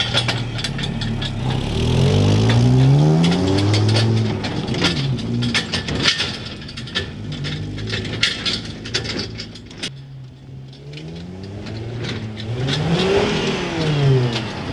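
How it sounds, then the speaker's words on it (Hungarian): A Volvo pickup truck with a suspected cylinder head fault revs as it is driven, the engine rising and falling through several close, loud throttle sweeps with a brief easing in the middle. "megnézzük, milyen most menni az autóval"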